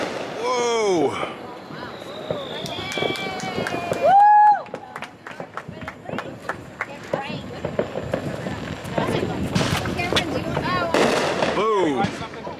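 Fourth of July fireworks bursting close by, with sharp cracks, whistling rockets and crackling scattered through, plus one loud blast midway, while people talk and react nearby.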